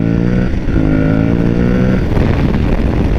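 A 2022 Aprilia Tuareg 660 twin-cylinder adventure motorcycle pulls hard during a test ride, its engine droning loud and close with rising pitch under heavy wind rush.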